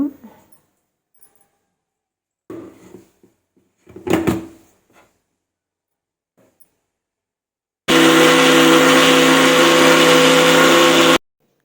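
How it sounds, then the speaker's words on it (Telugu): A mixer grinder blends fried onions, cashews and chopped tomatoes into a masala paste, a loud steady whirring burst of about three seconds that follows a few quiet kitchen clatters. "మంచిగా అయితే మిక్సీ పట్టుకోవాలి ఇప్పుడు"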